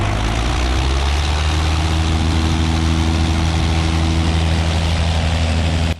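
A small airplane engine roars at a steady high power during takeoff, a loud, unbroken drone with a strong low throb that continues until the clip ends abruptly.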